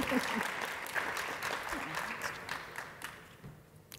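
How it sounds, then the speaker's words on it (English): Applause from a conference audience at a workplace industry event, a dense clapping wash that starts fairly loud and gradually fades out, with a voice briefly heard early on. "If we could get a round of applause for our thought leaders, please."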